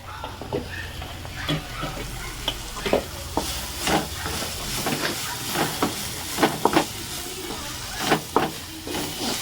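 Coriander and mint frying in hot ghee give a continuous soft sizzle, broken by repeated scraping, stirring strokes that come in irregular bursts, close up and moderately quiet.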